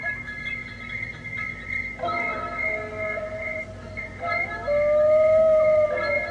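An animatronic Halloween skeleton prop in a party store lets out drawn-out, wavering spooky howls, fairly close and continuous, shifting in pitch.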